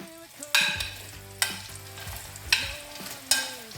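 Slices of sweet potato go into hot oil in several separate drops, each bringing a sharp burst of sizzling that fades into a steady bubbling fry, close by and with no talking.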